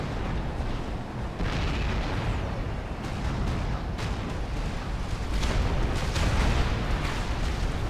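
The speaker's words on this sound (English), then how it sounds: "The bombers, however, are going to do a bombing run." Bombers make a bombing run in the video game Supreme Commander, unleashing a dense continuous rumble of explosions and booms that swells louder toward the end.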